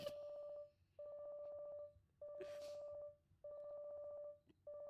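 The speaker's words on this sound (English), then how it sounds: "Your DDD is ringing." A DDD phone ringing in the Obey Me! video game: a steady electronic tone repeated in five even bursts with short gaps, clear and close, with a brief noisy hiss in the middle.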